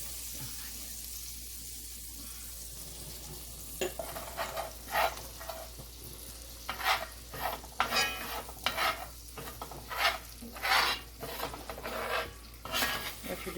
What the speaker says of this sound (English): What you're doing now is just basically making a roux